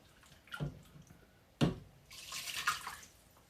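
Chicken stock poured into a pan to rinse it out for green chicken pozole, two short splashing pours followed by a longer trickling stream of liquid, fairly quiet and close with no talking.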